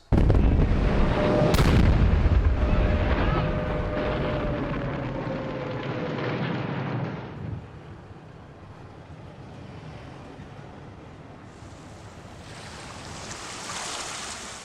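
Wartime bombing of the docks at Wapping, London: a heavy, rumbling roar of explosions and gunfire with a sharp crack early on. It eases after about seven seconds into a quieter, wind-like wash, with no voices.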